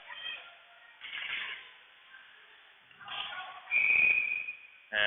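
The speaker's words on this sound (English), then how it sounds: "And now we got a whistle here." A referee's whistle at a varsity ice hockey game, a loud sharp shrill blast near the end after crowd and rink noise, with a second short burst right after.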